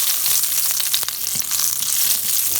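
Chili sizzles in hot oil at the start of a masala for a chickpea and potato jalfrezi curry, a steady loud hiss with a few soft stirring knocks throughout.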